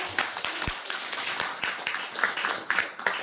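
Quiet, steady applause from a crowd at a religious discourse gathering, many hands clapping together at a distance.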